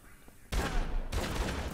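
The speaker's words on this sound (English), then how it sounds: "Eat shotgun, because it's a shotgun." A shotgun in the video game Dead Rising 3 fires loud, close blasts, the first booming in suddenly after a near-quiet moment and a second following about half a second later.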